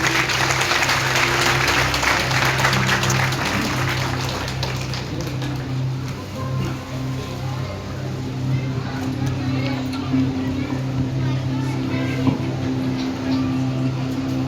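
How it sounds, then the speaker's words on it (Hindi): Applause from an audience at a Hindu devotional gathering honouring a spiritual teacher, steady clapping throughout over a constant low tonal drone, with speech from the gathering mixed in. "ताली बजाकर अभिनंदन करेंगे सभी लोग।"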